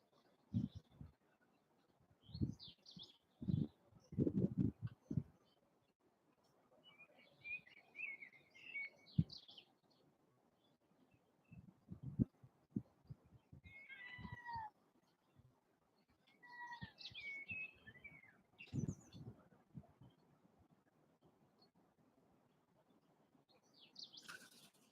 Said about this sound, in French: le bruit des oiseaux